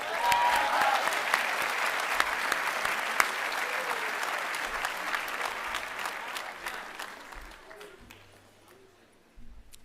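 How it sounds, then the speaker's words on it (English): Audience applause at a Cushing Academy commencement ceremony in 2025, a sustained broad roar of clapping from a large crowd that holds steady for several seconds and then gradually thins and fades out toward the end. "Let's give him a round of applause."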